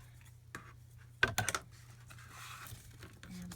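Paper is cut at an angle, a few brief crisp snips and crinkles clustered near the middle, close and quiet against a low steady hum.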